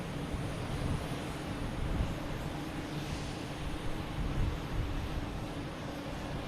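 An American Airlines jet bound for Phoenix taking off from Boston Logan Airport, a steady, broad engine roar heard from a distance, holding level without a clear rise or fade.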